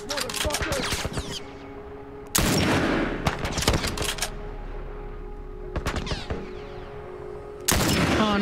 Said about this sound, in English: Can I shoot the tires?